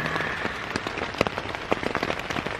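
Rain patters on a tarp at a campsite nearby, with irregular drops tapping sharply over a steady hiss.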